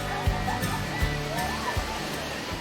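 Water rushes steadily through an opened weir on a cold river in the Frankenwald, used for timber-raft runs on the Wilde Rodach, a continuous broad roar with a few dull knocks and voices faintly mixed in.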